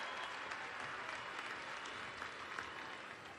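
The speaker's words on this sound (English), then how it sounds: "Give yourselves a round of applause." Crowd applause fills the arena at a college women's gymnastics meet between UCLA and Oklahoma, a steady, dense wash of many hands clapping, fairly distant and even throughout.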